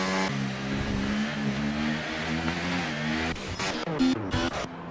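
A race car engine on a hot lap in a racing video game, on a track that is drying out: a loud, steady engine drone rises and falls through gear changes, ending with quick revving shifts. No voices.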